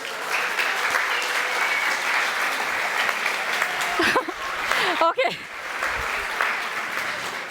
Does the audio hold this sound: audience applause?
yes